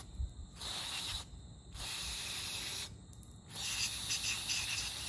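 Aerosol cleaner sprays onto the mass airflow sensor of a Ford F-150 in several long, loud hissing bursts close by, separated by brief pauses.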